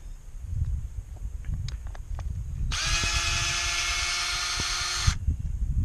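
A power drill drives out star-drive deck screws from crown landscaping edging, giving one steady whine of a couple of seconds, close and loud, over outdoor background noise.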